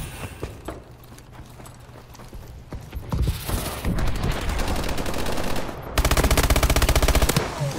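Rapid automatic fire from the MP11 submachine gun in Call of Duty: Advanced Warfare, a Team Deathmatch match, with dense bursts growing louder and continuous in the second half, ending in a sharp sustained volley.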